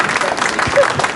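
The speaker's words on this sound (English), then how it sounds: "Give everyone a round of applause." Audience clapping at a community remembrance event for a January 12, 2023 disaster, a brief dense burst of applause with voices mixed in.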